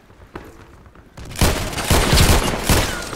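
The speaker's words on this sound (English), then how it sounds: "So that was four shots." Colt Python Elite revolver fired in the online shooter Contract Wars: a faint early pop, then a loud burst of several overlapping shots with echoing booms packed into about two seconds.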